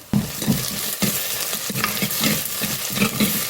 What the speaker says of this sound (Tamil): வெங்காயம் நல்லா செவந்து வரட்டும்